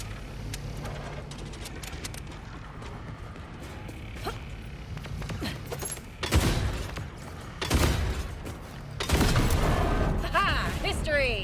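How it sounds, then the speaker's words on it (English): Gunfire aimed at the core of a mining laser in Borderlands 4, a few heavy bursts of shots with booming impacts in the second half, loud against a busy game background. "Shoot the core."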